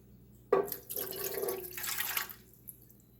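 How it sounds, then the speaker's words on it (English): Warm water, about a cup, poured into a bread machine pan at home: a brief splashing pour starting with a sharp onset and running about two seconds, close and clear, with no talking. "I'm going to start off by adding the warm water"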